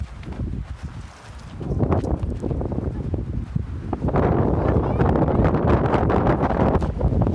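Steady wind blowing across an open hillside near campsites and an old house, a broad rushing roar that strengthens and stays loud and close throughout, with no talking.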